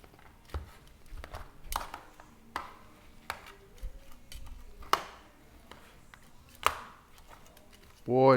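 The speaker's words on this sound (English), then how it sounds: "I'll get in there with 2 forks and I'll finish chopping that up" Smoked Boston butt pork is pulled apart with two forks, a series of quiet soft scrapes and light clicks in an irregular rhythm, close by, with a louder burst at the end.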